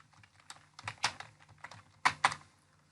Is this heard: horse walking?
no